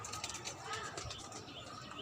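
Pigeons cooing softly in a rain-soaked rooftop garden, faint and continuous with light chirps over a low background, and a voice murmuring underneath.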